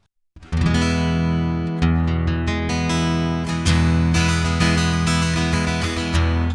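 Repeated strummed chords on a Line 6 Variax Acoustic 700 guitar heard through its dry direct signal with no reverb or EQ, the strums steady and close, each ringing into the next with no voices.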